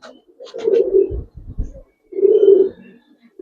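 A female Gribaz coloring pigeon in a loft gives deep, throaty coos in two distinct phrases separated by a pause, close and clear, with a few soft low thumps between them and no talking.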